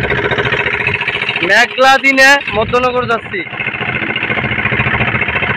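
A trawler boat motors toward Madhyanagar on a cloudy day, its engine a loud, constant chugging roar that holds throughout as someone talks over it.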